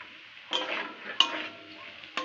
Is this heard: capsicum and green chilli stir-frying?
yes